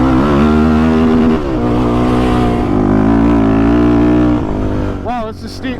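BVS-suspended Honda TRX450 ATV ridden hard off-road, its engine loud and close with sustained revving that rises and falls, a voice briefly whooping near the end.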